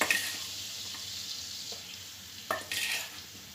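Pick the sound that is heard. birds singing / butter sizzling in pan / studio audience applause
butter sizzling in pan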